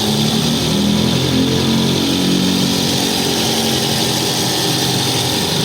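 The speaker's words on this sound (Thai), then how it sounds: "ดูตอนนี้คอมแอร์ทำงานปกตินะครับ" A car engine idles with its air-conditioning compressor engaged and running normally after a full AC system recharge, giving a steady, close, even mechanical hum with no knocks or rattles.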